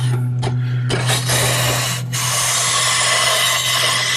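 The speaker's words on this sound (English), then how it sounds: "Jeff, you're using a different honing wheel for the gouge." Woodworking gouge held in a jig and honed against a spinning honing wheel, a steady rasping rub over a constant low motor hum, with brief pauses as the tool shifts, close and fairly loud.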